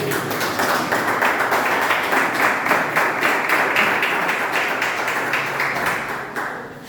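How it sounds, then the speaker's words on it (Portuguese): A church congregation claps hands in worship, a dense, continuous, rhythmic wash of many palms beating in steady time, loud and sustained for several seconds before tapering slightly at the end. "glorifica o Senhor com as palmas"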